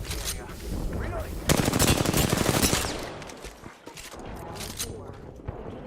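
Rapid gunfire from the video game Apex Legends comes in dense, loud bursts of automatic fire that swell to a heavy flurry of shots midway, then continue as scattered, slightly quieter volleys.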